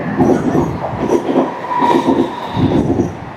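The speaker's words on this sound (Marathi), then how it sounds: "ट्रेन आली ट्रेन आली" A train pulls into a station with rhythmic clickety-clack of wheels over rail joints. The rumble is loud and close and comes in regular bursts, with faint squeals and no speech.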